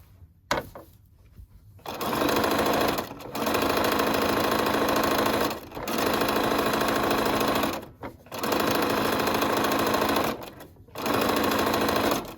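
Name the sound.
sewing machine stitching a wrap dress seam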